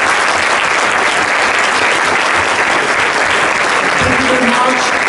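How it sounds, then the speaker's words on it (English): A large audience claps loudly and steadily for the panel speakers at the close of a quantum technologies workshop session, with dense, continuous applause from start to finish. "I want to ask you to join us in applause to all of the speakers."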